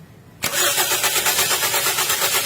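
A Toyota Vios engine cranks briefly and catches, then settles into a steady, loud idle with a regular pulsing rhythm, close by and with no talk.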